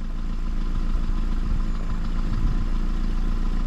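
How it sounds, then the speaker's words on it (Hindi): A car engine idles steadily with a low, even rumble and faint clatter as a learner driver holds the clutch on an uphill slope, running continuously with no talk. "साउंड सुनो ना इंजन का"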